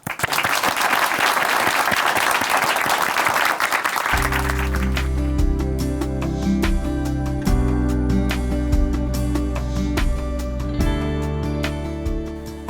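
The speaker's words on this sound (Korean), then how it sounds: "춘천한마음교회 서영 자매님 박수로 오시겠습니다." A church audience applauds to welcome Seo-young of Chuncheon Hanmaeum Church as she comes on stage. The dense clapping runs for about four seconds, then music with steady low tones enters and carries on under fainter applause.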